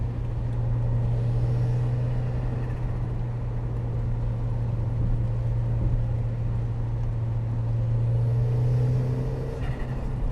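A turbocharged Mk1 Mazda MX-5 is driven on wet roads, heard from inside the cabin as a steady, droning engine hum with road rumble underneath, holding constant throughout with no one speaking.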